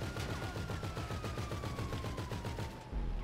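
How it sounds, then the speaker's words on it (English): Rapid automatic gunfire in the video game Grand Theft Auto V aimed at a car's tires, a fast evenly spaced burst of shots over a droning engine for about three seconds. "I'll shoot their tires"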